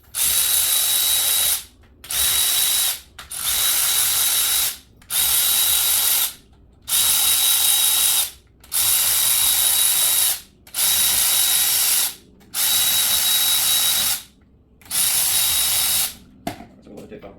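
A ratchet or power driver backs out the valve cover screws on a Toyota engine in a steady run of about eight loud, buzzing bursts, each lasting one to two seconds and separated by short pauses.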